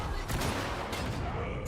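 Sniper rifle fire in a video game cracks out in a short, loud, dense burst of gunfire, close and harsh, with talk blended into the noise.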